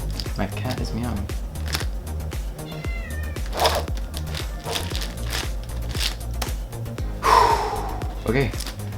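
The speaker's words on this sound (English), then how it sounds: "My cat is meowing." A house cat meows a few times, short and fairly close, amid soft clicking and shuffling of a large Rubik's cube being turned, with a voice murmuring at moments.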